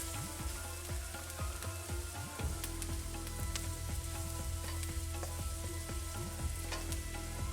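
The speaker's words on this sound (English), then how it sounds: "And then we will put in the tomatoes." Tomatoes go into a hot pan of spices for butter chicken, giving a steady, close frying sizzle with scattered crackles and small pops throughout, no voices.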